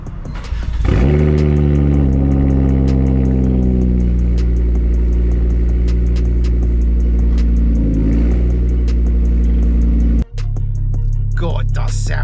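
A Ford Focus RS Mk2 with a tuned, high-power engine starts and pulls hard, its loud deep engine note rising and holding through the gears from close by, then a sharp gear change near the end with some crackle afterward.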